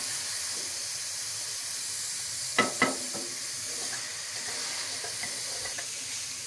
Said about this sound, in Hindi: बस आप ध्यान से इसको भूनते जाएं कि बस ये नीचे ना लगे